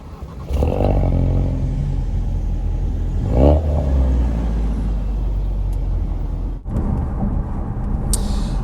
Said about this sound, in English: So let's start up my Ford Focus RS Mk3.